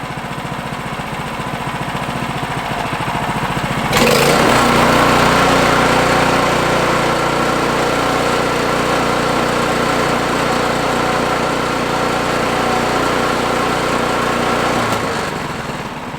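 A brand-new 2022 Simplicity 1024 Select Series snow thrower engine jumps to full throttle, then holds a loud, steady, high-revving drone for about ten seconds before easing off near the end.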